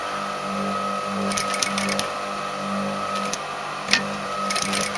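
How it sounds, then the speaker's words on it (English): A sewing machine stitches a lapped zip with white thread, a steady close-up whirring hum in short runs broken by brief pauses and small clicks. "this is where I'm going to start sewing"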